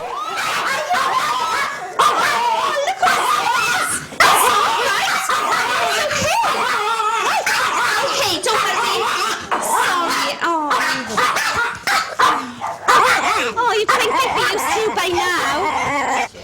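Small dogs in a home yip, bark and whimper near and loud in frequent bursts, mixed with people talking and laughing over them throughout.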